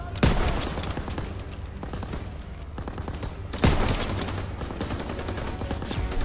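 Dense gunfire rattles through a Call of Duty WWII battle, with sustained automatic bursts and a heavy blast partway through, loud and continuous with no pauses.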